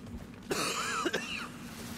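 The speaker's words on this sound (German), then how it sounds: "Jetzt bin ich hier ganz schön am Husten." A single harsh cough with a throat-clearing rasp, heard up close against faint background noise in the Remnant 2 video game.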